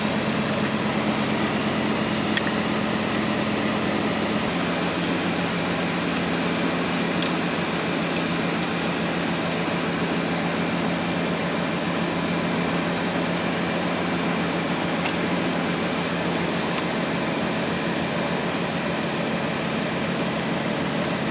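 A heater blower fan in a 2004–2015 Nissan Titan pickup runs inside the cab, a steady broadband whoosh with a low motor hum, loud and unchanging for over twenty seconds with no voices.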